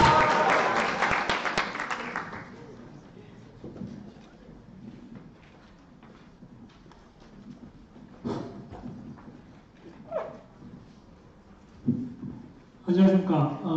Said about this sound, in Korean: 힘찬 박수와 함성 부탁드리겠습니다.